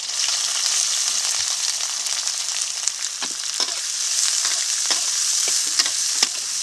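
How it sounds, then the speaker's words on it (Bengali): Chopped onion, black cumin and green chili fry in hot oil, making a loud, constant close sizzle broken by irregular stirring clicks and scrapes, with no voices. "পেঁয়াজটাকে এখন ভেজে নেব"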